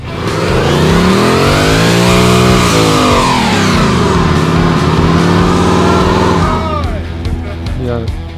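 A Ford Mustang engine revs loudly and accelerates hard, its pitch rising and falling through several gear changes before easing off, with a voice heard over it.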